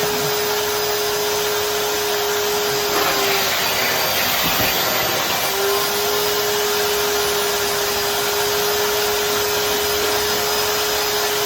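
A 2024 Numatic George vacuum cleaner with a spot-clean sprayer attachment runs steadily while cleaning a rug, a continuous close motor whine and suction roar with a brief shift in pitch midway, no voices.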